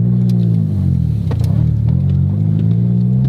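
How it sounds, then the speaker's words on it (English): A Honda Civic engine revs steadily to its rev limiter while driving, a loud continuous drone that bounces against the limiter, close and with no voices over it. "they have a built-in audio rev limiter that a lot of you have probably seen Honda owners use"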